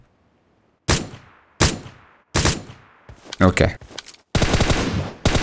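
Gunfire in the PUBG Mobile video game on the Miramar map: loud single shots and short bursts, then a sustained rattle of rapid automatic fire, with a brief spoken word between the shots.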